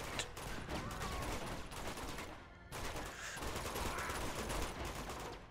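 Gunfire in Uncharted 2 crackles in rapid, repeated bursts of automatic shots during a firefight, loud and close with a short pause partway through before the shooting resumes.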